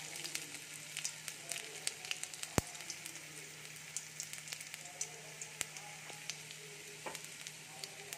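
Chopped ginger and asafoetida sizzle in hot oil for a vegetarian potato paratha dish, a quiet, crackling fry with scattered sharp pops and an occasional clink of a utensil.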